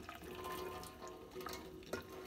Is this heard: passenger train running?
no